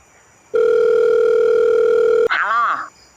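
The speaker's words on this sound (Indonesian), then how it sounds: "Coba saya telepon dulu." In an animated horror film, a phone call gives a loud steady ringing tone that holds for nearly two seconds and then breaks off. A voice speaks briefly right after it.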